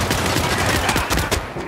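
Gunfire in the Hitman video game: a loud, dense burst of rapid shots with sharp repeated cracks over about a second and a half, no voices over it.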